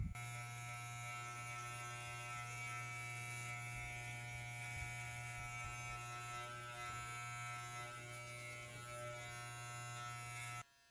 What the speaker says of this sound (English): I'm just going to use the Andes T-liner, create that first line, and then go from there.